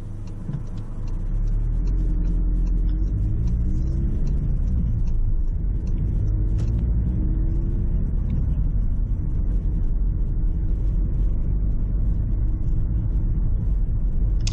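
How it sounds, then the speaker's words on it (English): A car drives steadily along a 30 mph residential road, its low engine hum and tyre rumble constant and fairly quiet from inside the cabin, with no talk. "So as I'm driving along this 30 mile an hour road"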